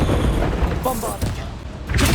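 Bombarda blast spell exploding during a Hogwarts Legacy battle, a loud booming burst that rises over constant combat noise and shouting, with a second heavy blast near the end.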